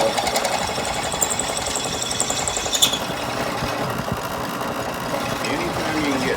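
A sharp drill bit boring into a metal EGR block-off plate, producing a steady buzzing, whirring grind with a brief higher squeal partway through, close and continuous.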